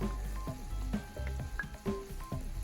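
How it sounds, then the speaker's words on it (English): Shrimp, zucchini and tomato are stirred through a chorizo pasta sauce in a pan, with a soft steady sizzle under a series of scraping, clattering utensil strokes against the pan, close and moderately loud. "Give it a quick stir."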